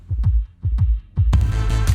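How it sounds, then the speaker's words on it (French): A heartbeat sound effect: deep, regular lub-dub thumps, three beats in a row, before music swells in and carries on over the last beat. "un battement de cœur"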